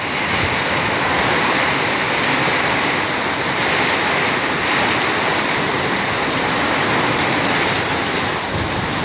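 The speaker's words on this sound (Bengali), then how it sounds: "এবছর বৃষ্টি হতেছে শেষ সময়" Heavy rain pours down outdoors near a mosque in Qatar, a loud, dense, unbroken roar of water hitting surfaces that persists for the whole stretch.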